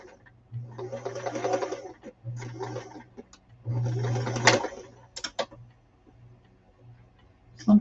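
A home sewing machine stitching thread through the bobbin, running in three short whirring bursts with rapid ticking, separated by pauses filled with faint clicks and handling noises.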